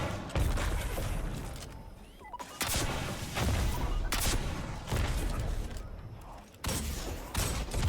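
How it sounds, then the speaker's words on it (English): Repeated rocket launches and impacts against a boss in Destiny 2, loud booming blasts arriving in spaced bursts with crackling gunfire between them. "I usually just spam rockets at the boss"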